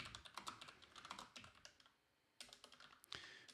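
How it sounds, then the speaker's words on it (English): Rapid typing on a computer keyboard close by, bursts of clicking keystrokes with a short pause near the middle before the clatter resumes. "You get to see my horrible typing."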